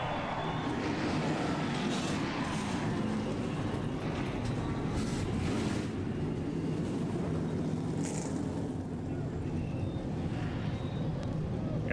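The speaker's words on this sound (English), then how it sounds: "Gentlemen, start your engines." NASCAR stock car engines fire up for the 2010 Daytona 500 at Daytona International Speedway, a continuous dense roar that stays level throughout, heavy and rumbling with a broad wash of noise.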